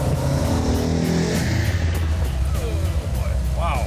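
A 1970 Dodge Challenger with a 440 Six Pack and 4-speed pulls hard in second gear after a downshift at about 50 mph. A loud, steady engine roar fills the cabin, with a rising whine near the end and voices underneath.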